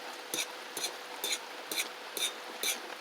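Coconut milk boiling in a pot over a charcoal fire in rural Jamaica is stirred with steady strokes, six evenly spaced scraping swishes over a soft simmering bed.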